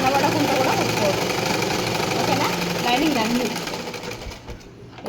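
A sewing machine stitches a plain blouse, its steady, close whirring running continuously under a person talking, then easing off and thinning near the end.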